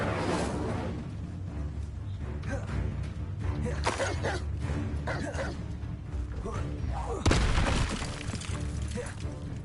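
Fire spell cast in Hogwarts Legacy on PS4, a whooshing magical burst with crackling impacts amid ongoing game combat sounds, one louder blast near the end.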